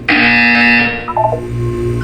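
Electronic buzzer from the video game Portal 2, a loud steady tonal drone that holds for almost a second and then drops to a quieter lingering hum with a few brief chirps.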